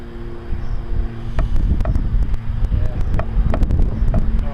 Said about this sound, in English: that's the wind conditions. Not the best as it could be.